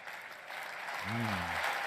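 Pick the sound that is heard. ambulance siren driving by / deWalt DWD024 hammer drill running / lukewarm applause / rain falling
lukewarm applause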